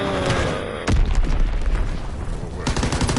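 An enemy bomb explodes in Call of Duty WWII, a sudden deep boom followed by roaring rumble and gunfire crackle in a loud, dense battle mix.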